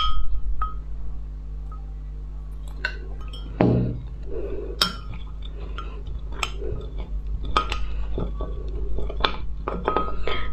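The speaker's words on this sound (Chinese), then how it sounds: "然后加入点凉水，先把它调开一下。" Cold water being stirred into lotus root starch in a cup, with a spoon clinking and scraping against the sides in light, irregular taps and a sharper knock partway through, close up and fairly quiet.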